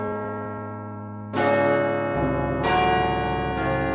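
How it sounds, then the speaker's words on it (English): Clock tower bells ring out in layered, sustained tones, first a steady hum, then a louder cluster of overlapping strikes joining in as the peal swells and keeps resonating, with no voices. "The rhythmic chime of the bell tower, of the clock tower,"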